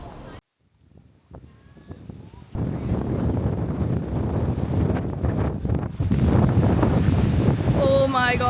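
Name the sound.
strong wind on a beach in Spain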